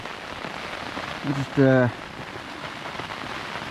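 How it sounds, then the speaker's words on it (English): Heavy rain drums steadily on a tent during a wet, windy wild camp, a dense continuous hiss throughout, with a brief spoken word cutting through partway. "It's coming down heavy now. That's rain, that."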